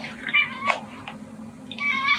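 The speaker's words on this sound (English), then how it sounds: "the cat makes a noise so that she may eat" A cat meows twice, close and fairly loud, one cry at the start and another at the end, with a couple of soft clicks in the quiet gap between.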